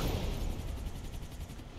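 Gunfire and a blast in the video game Max Payne 3 make a dense, rumbling burst of shots and explosion noise, fairly quiet and continuous, with no voice over it.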